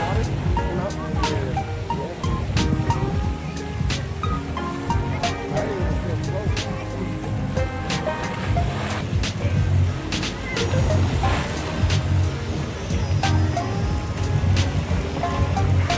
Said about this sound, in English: We love a water slide.